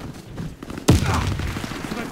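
A loud gunshot from the Warface first-person shooter game hits sharply partway through, and a booming tail trails after it over steady game noise.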